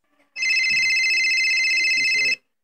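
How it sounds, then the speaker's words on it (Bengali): A telephone rings in a continuous bright electronic tone for about two seconds, loud and close, with a short burst of indistinct voice underneath near the start of the ring. "ফোন এসেছে"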